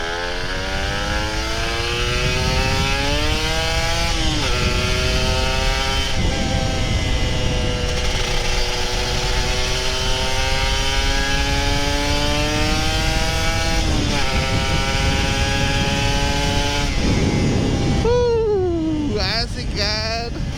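A Kawasaki Ninja RR 150 two-stroke motorcycle accelerating hard, its high-pitched exhaust rising through several gear pulls with brief drops between shifts, loud and close, ending in a quick blip.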